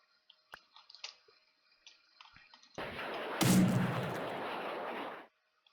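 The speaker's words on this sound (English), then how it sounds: "I just shot myself with that missile." A missile is launched and detonates in a sentry-building video game: quiet clicks and small blips, then a sudden loud broadband blast that swells into a sustained roaring rumble for about two and a half seconds before cutting off, with no talking.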